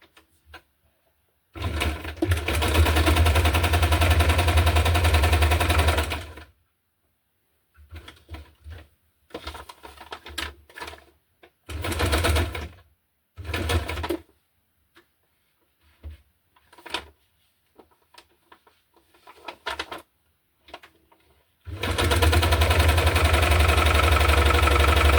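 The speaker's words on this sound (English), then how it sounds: "and then I will sew around the edges" A sewing machine sews a regular straight stitch around the edges of a green and blue hardcover junk journal, in loud close bursts of whirring that alternate with stop-start short runs and gaps of quiet.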